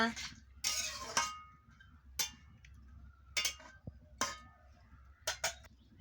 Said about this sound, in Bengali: হলুদের গুঁড়ো দিয়ে দিচ্ছি, দিয়ে ভালো করে নাড়িয়ে নিচ্ছি।